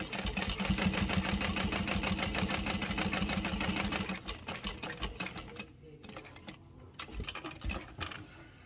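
A sewing machine stitches across the 1/8-inch seam allowance of a Luna bag, running in a fast steady whir for about four seconds before stopping, followed by quieter handling noises.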